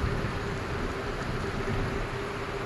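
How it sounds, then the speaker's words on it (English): Rain falls in Albuquerque in a constant, dense patter with a low rumbling undertone and a faint steady tone, close and unchanging. "now that it's raining"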